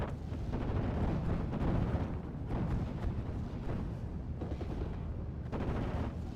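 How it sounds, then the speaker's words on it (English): A 20 millimeter gun firing in a World War II video game, dense continuous bursts of gunfire and booming impacts filling the whole stretch, loud and close with no pauses. "This is actually a 20 millimeter gun, not even a 37 millimeter."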